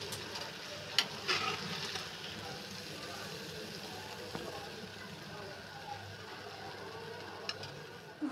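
Kalmi greens fritters frying in oil, a faint steady sizzle with occasional clinks and stirring sounds, a voice talking over it at times.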